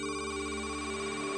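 A telephone rings indoors with a steady electronic ringtone held throughout, fairly quiet and heard alone without talk.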